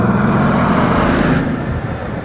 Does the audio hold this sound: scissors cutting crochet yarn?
no